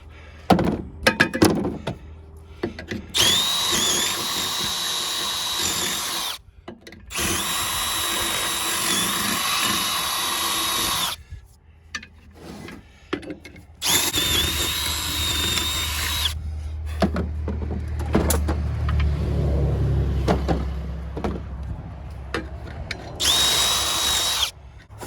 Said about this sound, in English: I'm going to just ream them out a little bit so the bolts will go through. So I got to drill and do that.